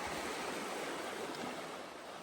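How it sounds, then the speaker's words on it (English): A creek in Marysville, Victoria, Australia flows with a broad, steady rushing wash, close and fairly loud, with no voices over it. "And here's the river. Or creek, or whatever Adam was calling it before."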